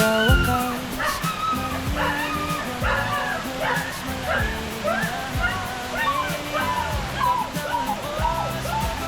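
A dog whimpers and cries repeatedly, high rising whines and short yips coming in bursts, close by over a steady rushing-water background along a trail.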